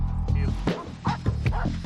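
A dog gives several quick, sharp barks in a loose rhythm, close and loud over a steady musical background.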